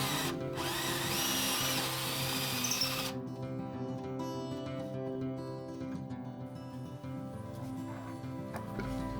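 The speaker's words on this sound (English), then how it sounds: "I need to drill a hole through the jack socket" A power drill bores through the jack socket hole of a handmade semi-hollow guitar body, whirring loud and steady for about three seconds, then a quieter mechanical hum and faint workshop tapping continue.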